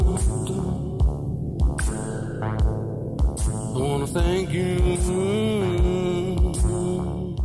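An electronic Christmas song with a steady thumping drum-machine beat, droning synth, and a wavering vocal melody running over it.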